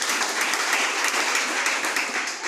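Many worshippers in a church fill the room with continuous applause, a thick, even roar of clapping that holds steady and eases slightly at the end.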